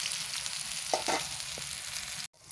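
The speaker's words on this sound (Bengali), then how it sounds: "আমি মাছের তেলেই আলুটা ভেজে নিচ্ছি।" Potato pieces fry in oil left over from frying fish, giving a bright, steady close-up sizzle with a few soft stirring clunks, before the sound cuts out abruptly near the end.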